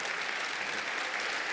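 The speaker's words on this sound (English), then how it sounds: "Give him a round of applause" An audience at a talk on Woodward and Bernstein and the free press claps in a brief, steady round of applause, a dense even patter of many hands with no voices.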